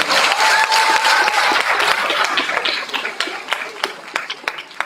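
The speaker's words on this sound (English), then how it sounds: "Give Omar another round of applause." A large audience claps steadily and loudly, the dense applause thinning into scattered individual claps toward the end.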